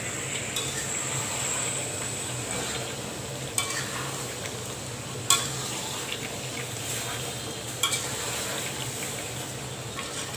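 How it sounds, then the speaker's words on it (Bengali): Raw mango pickle with spices and vinegar cooks in a pan with a steady, even sizzle. Occasional sharp scrapes of a spoon stirring it rise briefly above the sizzle, close up with no talking. "আমি নেড়ে চেড়ে দিচ্ছি আমার আচারটা।"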